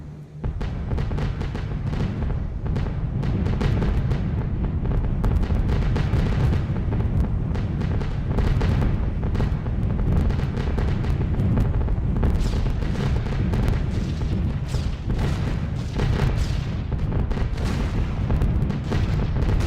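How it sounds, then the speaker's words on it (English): Heavy flak bursts during a bomb run in the B17 The Mighty 8th flight game, a dense, continuous rumble of booming detonations mixed with engine drone, loud and sustained with no talking. "Oh, here comes the heavy flak."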